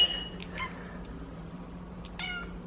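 A pet cat meows indoors, a few short high cries spaced across a couple of seconds, close but fairly soft over a low steady room hum.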